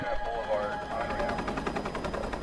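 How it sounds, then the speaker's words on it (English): A helicopter in the video game Darksiders gives a steady rhythmic rotor chop, fairly loud and continuous, running under the game's soundtrack. "Oh, we're in a helicopter."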